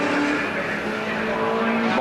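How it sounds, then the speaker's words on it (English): A race car pulling into the pits at the 1975 Bathurst race, its engine a steady continuous drone held loud throughout, with a commentator talking over it. "we've got him coming in now for a pit stop"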